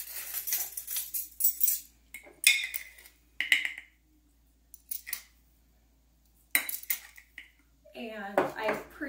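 Metal measuring spoons clink and rattle in short bursts while sugar is measured for Irish soda bread, with quiet gaps between the clatters and a louder jangle near the end.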